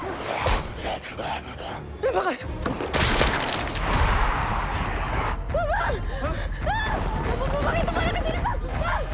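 Rapid bursts of gunfire crack and echo amid chaotic action noise from a horror film, with shouting voices and frantic sounds mixed in, loud and close.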